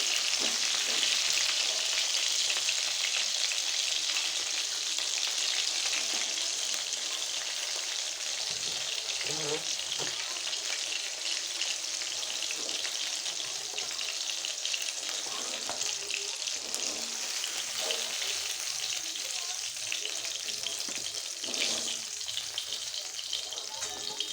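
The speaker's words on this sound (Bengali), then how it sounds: "একই সাথে আমি একইভাবে আমি বাকি মাছগুলো ভেজে নেব" Katla fish pieces fry in hot oil with a loud, constant sizzle that fills the whole stretch, with occasional soft scrapes and clinks of a utensil in the pan.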